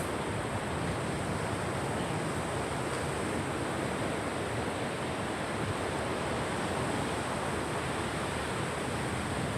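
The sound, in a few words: sea waves on shore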